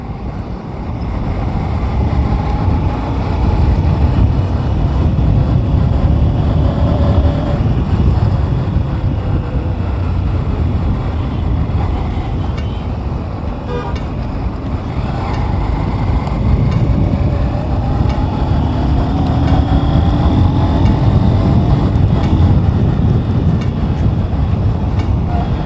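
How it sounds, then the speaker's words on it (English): Honda Hornet 2.0 BS6 motorcycle cruising on a highway, heard as a steady, loud rush of wind buffeting over a low engine drone, continuous and unbroken throughout. "This is really very silent bike, which makes highway cruising bliss."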